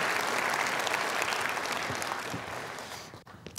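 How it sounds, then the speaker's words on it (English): A conference crowd at Graph Day 2022 gives a round of applause for grantees, with dense clapping that tapers off near the end. "So give a round of applause to all those grantees"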